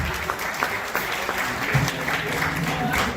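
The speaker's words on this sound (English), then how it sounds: "Now that was some polite applause" Audience applause at a jazz concert honoring a sheriff's office bailiff, moderate and steady clapping from a crowd with faint voices underneath.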